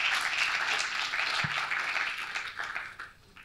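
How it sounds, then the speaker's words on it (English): Faint applause from a conference audience at a Kenya–France business event, fairly even at first and then thinning out toward the end. "give yourselves a round of applause for everything that you do"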